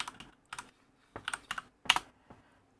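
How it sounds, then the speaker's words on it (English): Short bursts of quick keystrokes on a computer keyboard entering a command in a command-line interface, close and crisp in a quiet room with no talking. "So if I type status"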